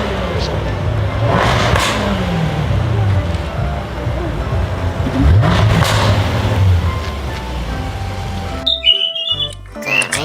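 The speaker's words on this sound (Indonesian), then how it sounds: "mobil sedan" A sedan engine revving and accelerating in two swelling passes, loud and close, mixed with other busy noise, ending in a brief quieter stretch with chirpy sounds.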